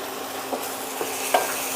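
Spices with turmeric and chilli powder sautéing in hot oil for Kashmiri dum aloo, a steady soft sizzle broken by three brief scraping stirs of a spoon.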